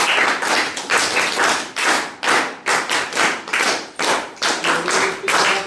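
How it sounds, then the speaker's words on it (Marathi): A school audience at an educational event claps in several loud, close bursts of hand claps, each swelling and fading in turn, with no voices. "मॅडमचं आपण सगळ्यांनी टाळ्या वाजवून अभिनंदन करूया"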